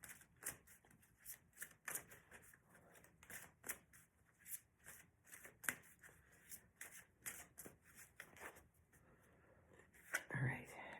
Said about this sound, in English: I'm going to shuffle these now also.